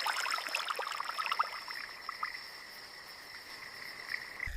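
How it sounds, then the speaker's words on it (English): A transparent glass frog calls in a bed of running water and insect chirps, with a series of short, faint clicks and croaks scattered over a steady high background hiss. "this transparent little frog is completely real"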